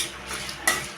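Red chillies, coriander seeds, cumin, dry coconut and sesame seeds dry-roasting in a pan for a stuffed bitter gourd masala, giving a soft steady rustle and hiss with a brief louder scrape near the end.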